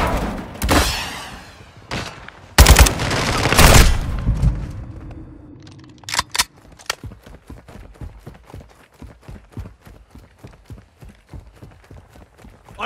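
Gunfire in Call of Duty: Modern Warfare II: a few loud, close bursts early on, then a long run of quick, evenly spaced lighter shots at moderate level.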